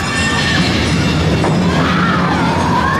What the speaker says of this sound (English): Train keeps whipping past you.